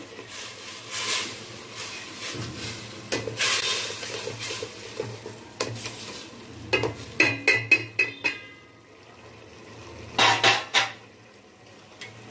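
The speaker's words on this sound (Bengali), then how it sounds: "এটা নরম হয়ে গেছে, আমি এটাকে একটু জাস্ট স্ম্যাশ করে নিচ্ছি" Softened tomatoes being mashed with a spoon in a cooking pan for tomato pulao, with scraping and clanks against the metal and a faint sizzle underneath, building to several sharp knocks near the end, with no talking.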